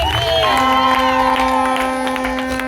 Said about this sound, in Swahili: Piga makofi mengi kwa Yesu